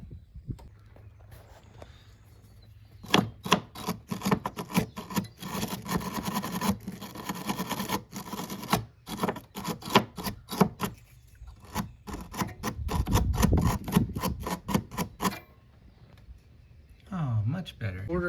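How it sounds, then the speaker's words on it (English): A wire brush scrubs the alternator bolts on a 2006 Ford Focus in quick, rasping back-and-forth strokes, close and steady. A faint voice can be heard in places. "just take a wire brush, clean that up a little bit"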